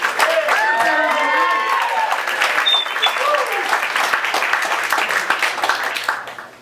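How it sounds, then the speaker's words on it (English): An audience at a Staten Island comedy show breaks into sustained applause and clapping with some cheering, gradually tapering off, while someone speaks over it. "Give yourselves a round of applause."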